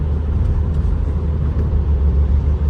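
A 2012 Renault Kangoo with a 1.6 petrol engine and automatic gearbox cruising on a highway in fourth gear: a steady, loud, low engine and road rumble, continuous and even throughout, with no talking.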